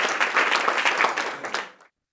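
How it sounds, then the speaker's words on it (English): Audience applause after a talk at a health-tech startup showcase, a steady burst of clapping from a crowd that fades out after about two seconds. "One more round of applause for saying that."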